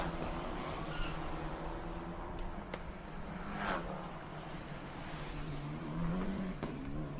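F4 single-seater race cars battle closely on a circuit, their engines droning steadily at a distance with rising and falling pitch as they pass and jostle for position.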